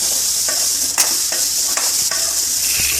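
Onions with salt and turmeric sautéing in a pan for sambar, a close, steady sizzle broken by several scraping and tapping strokes of a stirring spoon.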